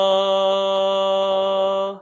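A steady, sustained straight-tone vowel sung on "ma" with no vibrato, holding one pitch evenly for about two seconds, solo and close, fading at the end.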